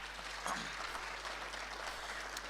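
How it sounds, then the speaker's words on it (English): Faint audience applause for a minister at a national ICT summit, a distant steady patter of clapping under a low hum, with no speech. "let's give the Honorable Minister a big, big, big round of applause"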